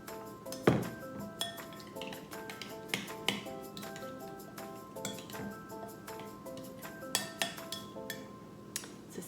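Spoon stirring muffin batter with berries in a bowl, a steady series of close clinks and scrapes against the bowl, rhythmic and fairly loud, with no talking.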